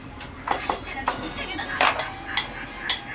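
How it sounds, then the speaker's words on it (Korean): Spoons and rice clink and scrape against bowls at a family meal table as rice is scooped from one bowl to another, a series of sharp, close taps and knocks over quiet room tone. "시어머니가요 슬쩍 밥을 보시더니 며느리 그릇에다가 밥을 덜어요"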